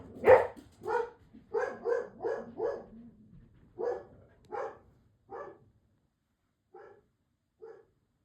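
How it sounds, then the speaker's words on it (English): A dog barks repeatedly, about a dozen sharp barks in an irregular rhythm, fairly close, tapering off to a few fainter ones at the end. "Sorry, that's my other dog."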